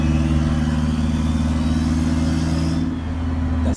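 A stripped-out, all-wheel-drive Honda Civic EG with a 500 bhp K20 engine drones steadily at high revs from inside the cabin, a strong sustained hum that briefly dips near the end.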